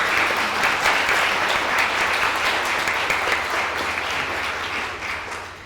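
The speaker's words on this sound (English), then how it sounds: "please join me in giving her a round of applause" An audience applauds a keynote speaker at an academic talk, steady sustained clapping from a large crowd that holds evenly for several seconds, dense and fairly close, with no talking over it.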